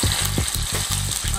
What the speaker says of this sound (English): I'm going to sear it